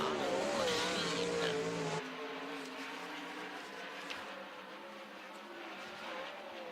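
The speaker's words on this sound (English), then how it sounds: "The car sounds okay, Caleb." A race car engine roars loudly at Skagit Speedway, its pitch shifting as it revs, then settles into a steady drone as it moves off.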